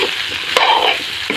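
Local chicken with potatoes and tomato stirred and frying in a wok (kadai): a steady loud sizzle with one sharp metallic clank of the spatula against the pan midway, then a softer knock near the end.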